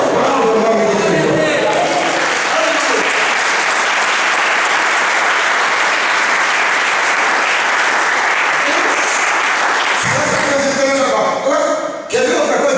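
A crowd at a church service bursts into sustained, loud applause lasting several seconds, with a voice audible at the start and end.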